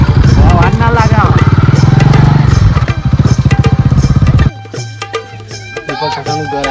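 Motorcycle engine running close by with a steady rapid putter, under loud overlapping talk, then dropping to a quieter idle after a sudden cut.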